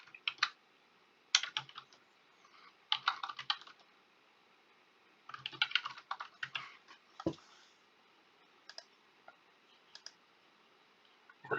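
Someone types an account name on a computer keyboard in quiet, irregular bursts of close keystrokes with short gaps between them.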